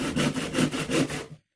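A hand saw cuts through a wooden block in about four steady back-and-forth strokes, close and clear, with no talking.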